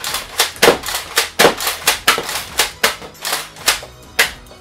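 A Nerf Zombie Strike blaster firing foam darts, a quick series of about a dozen sharp, close pops in a steady rhythm, each followed by a brief whir and click, with no talk.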